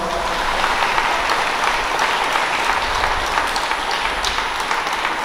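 A crowd applauds steadily at a First Holy Communion Mass, dense clapping sustained throughout at a loud, even level.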